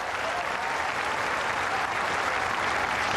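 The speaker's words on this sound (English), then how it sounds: "It really does get the crowds whooping and hollering." Tennis crowd at a 2008 San Diego quarterfinal breaking into loud, sustained applause with whoops and hollers, a dense steady roar of clapping throughout.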